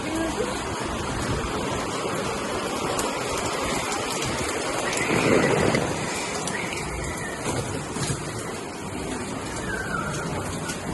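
Steady rain patters continuously at close range in Mussoorie, a dense, even hiss with a slight swell midway and no voices.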